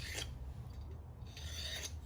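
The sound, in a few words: deburring metal parts of a Yamaha Tenere 700 rally tower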